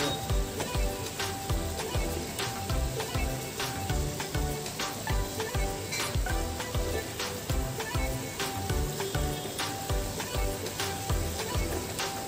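Chicken pieces sizzling in boiling butter chicken gravy in a pot, a steady bubbling crackle with repeated sharp stirring knocks against the pan at a fairly regular rhythm, with no voices.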